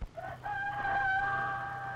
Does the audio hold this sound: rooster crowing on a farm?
yes